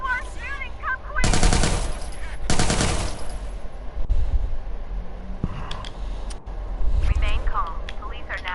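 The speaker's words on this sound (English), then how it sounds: "People are shooting! Come quick!" Rapid automatic gunfire rattles through the Watch Dogs 2 video game in two loud, sustained bursts. Scattered game effects and voices come and go around the shooting.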